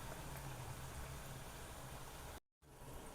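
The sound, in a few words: betel leaf fritters (bhaji) frying in oil on low gas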